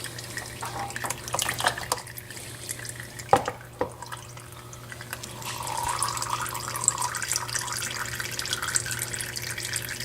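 Engine oil from an Infiniti G35 drains into an oil pan, a faint continuous trickle and splash with a few sharp clinks partway through, close and low in level.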